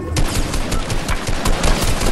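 Gunfire in a video game, a rapid, dense fusillade of close, loud shots packed tightly together with no pause.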